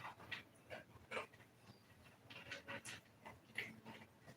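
A puppy whimpers and pants softly in short, unhappy bursts, close by but quiet.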